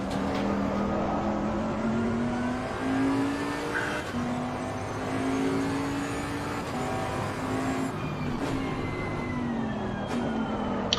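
Race car engines in the racing game Assetto Corsa Competizione drone steadily throughout, with layered engine tones shifting pitch as several cars run close together on track; no talking.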